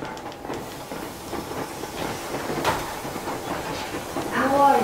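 Steam train rolling along in the video game Metro Exodus, a steady hiss and rumble with faint rhythmic clatter of the cars, while characters talk over the top.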